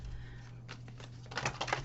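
Quick rattling clicks of cards riffling together, a short burst that builds into sharper flutters toward the end, close and fairly quiet.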